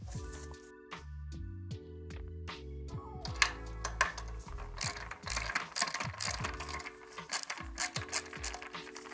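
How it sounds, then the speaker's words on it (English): A ratchet or driver clicks through the removal of four side screws holding the fender on an Apollo Go, with quick rhythmic ratcheting bursts that come close and fairly loud and are separated by short pauses. "We'll remove the four screws on the side."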